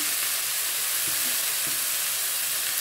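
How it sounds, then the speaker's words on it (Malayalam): Ginger-garlic-shallot masala paste sautéing in a pan with salt and turmeric, a steady soft sizzle throughout with a couple of faint stirring knocks, no voices. "ഇഞ്ചി വെളുത്തുള്ളി പേസ്റ്റ് ഇതിനകത്ത് കിടന്നൊന്ന് നന്നായിട്ട് മൂത്ത് വരണം അതുവരെ വഴറ്റിയെടുക്കാം"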